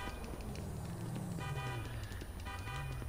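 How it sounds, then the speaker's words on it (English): In the GTA Online video game a car horn honks in long sustained blasts over engine noise and ambient game sound, with someone talking over it. "That guy's honking at me"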